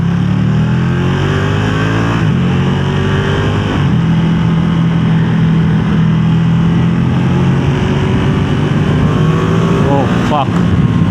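A Ducati Streetfighter V2 naked middleweight motorcycle engine is ridden gently at first, its steady drone climbing and falling in pitch through the gears, with a rider talking over it.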